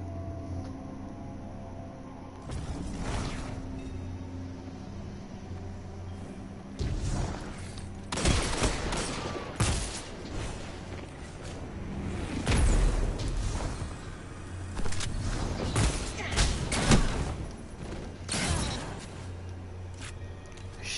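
Shotgun blasts, several heavy booming shots spaced irregularly, each a sharp loud crack with a decaying tail, over a low background hum.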